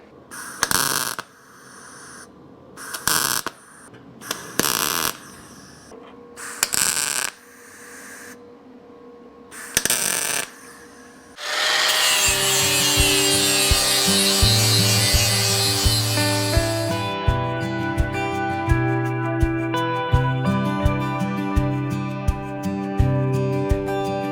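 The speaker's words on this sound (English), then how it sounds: "I'll cut this flange off" Cutting a metal flange off a rusty Chevy COE cab, heard as a few short tool bursts and clanks, then a loud, continuous power-tool whine with rapid ticking that runs steadily to the end, up close and without talk.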